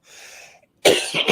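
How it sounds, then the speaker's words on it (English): Coughing on a podcast: a soft breathy rasp first, then a gap and a loud burst of harsh, close coughs with a couple of quick follow-up hacks, no talking. "as soon as you talk about health, you start coughing"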